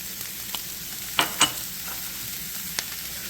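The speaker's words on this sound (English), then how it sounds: "now I'm gonna go ahead and add in my onions already diced up" Diced onions fry in a pan with a quiet steady sizzle, broken by a few sharp crackles and scraping stirs near the middle.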